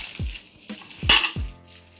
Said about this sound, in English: we are going to smash it with our hands